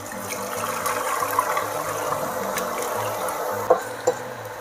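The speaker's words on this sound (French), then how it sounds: "pendant que notre riz est en train de nacrer, on va venir filtrer notre bouillon de légumes." Vegetable broth for risotto is strained in a kitchen, a steady liquid pouring and sloshing with a couple of sharp knocks of utensils toward the end, close and moderately loud, no speech.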